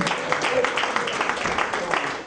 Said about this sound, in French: Il faut les applaudir, nos doyens